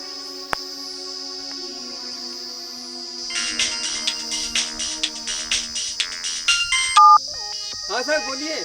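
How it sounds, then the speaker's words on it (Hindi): A phone ringtone repeats in a steady pulsing pattern at moderate loudness, with a soft electronic tone sustained underneath and brief chirping sounds near the end. "ठीक है, फोन लगा लेता हूँ।"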